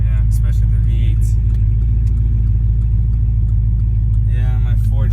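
2011 Cadillac CTS-V with a V8 engine rumbles steadily and loudly from inside the car as people talk over it.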